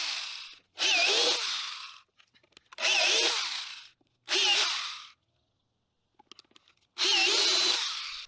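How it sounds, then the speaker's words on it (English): A power drill with a 7/16 paddle bit bores T-nut holes in plywood for a climbing wall, four loud whirring bursts of one to two seconds each, separated by quiet pauses with faint clicks. "would use like a 7/16 paddle bit for the T-nut holes"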